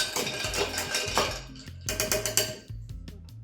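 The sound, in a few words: spoon stirring orange juice cocktail in glass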